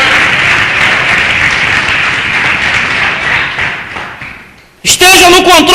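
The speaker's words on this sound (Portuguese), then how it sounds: "Você pode aplaudir ao Senhor Jesus." A church congregation claps loudly and densely for several seconds, the applause fading out before a voice abruptly begins speaking.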